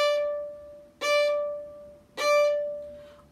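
Violin bowing a steady repeated pitch in a Suzuki-style practice exercise, going from E to twinkle D: three strong bow strokes in an even pulse, each with a sharp attack and a fading sustain, played solo and close.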